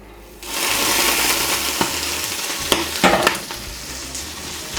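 Popcorn in a pot on a stovetop, with sugar added, gives a steady close sizzle broken by a few sharp pops and scrapes toward the middle.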